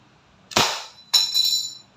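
An Umarex Glock 17 Gen 5 airgun pistol fires steel BBs: two sharp, snappy cracks about half a second apart, each with a brief metallic ring, close and loud against near silence.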